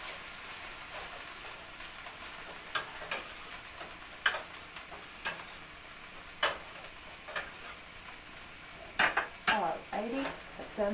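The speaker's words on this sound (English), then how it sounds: "stirring them around" A utensil stirs food in a pan, producing sparse, fairly quiet scrapes and metallic clinks at uneven intervals, with a brief cluster of clatter toward the end.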